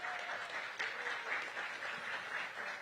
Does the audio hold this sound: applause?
yes